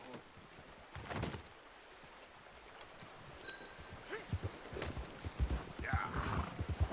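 Hooves of a horse in Red Dead Redemption 2 clip-clop slowly on the ground, a few scattered steps growing louder, with faint rustling and movement around them.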